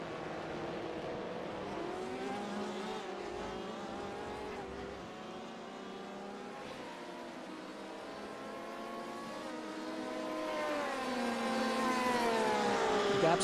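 Sports prototype racing cars at Sebring roar continuously through a big bend toward the hairpin, several engines overlapping with rising and falling pitch and swelling louder toward the end.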